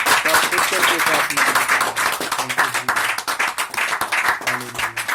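A church congregation claps loudly and steadily together in quick rhythmic bursts, with voices and singing carrying over the clapping throughout.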